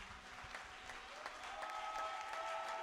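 A congregation at a spiritual gathering applauds and acclaims an honoured father figure. Faint, distant clapping swells gradually into a fuller, continuous wash of applause.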